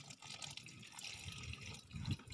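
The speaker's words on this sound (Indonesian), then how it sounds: "Tanaman jahenya kita siram juga." Water is poured onto a ginger plant on a balcony, a soft splashing and trickling that keeps going with small bursts and no voices.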